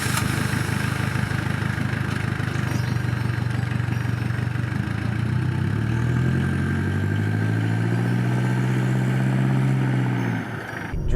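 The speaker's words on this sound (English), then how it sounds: "Now let's go for a drive." A Mitsubishi Delica Spacegear L400 van engine drones steadily from inside the cabin as it drives, with a low constant hum that rises in pitch as it accelerates near the end.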